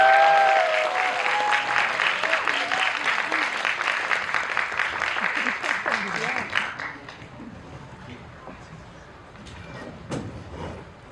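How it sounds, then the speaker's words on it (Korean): Audience applause for actor Yim Si-wan at a cinema guest visit, a dense, loud wash of clapping that swells and then thins out toward the end, with a few scattered claps trailing behind. "조금 더 큰 박수로 한 번만 부탁드리겠습니다"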